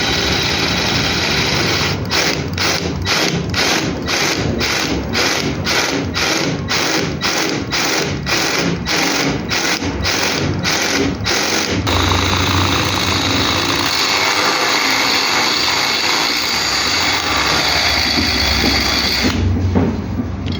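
A freshly sharpened drill bit bores through material with a fast mechanical rattle of regular pulses for about ten seconds, then settles into a smoother steady grinding whir that cuts off near the end.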